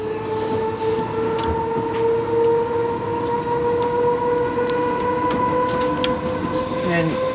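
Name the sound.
battery train running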